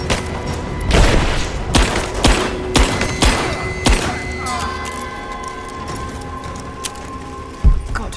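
Gunfire in Rise of the Tomb Raider, with several loud, heavy shots and thuds close together early on, then scattered hits and mechanical clanks as the firing thins out.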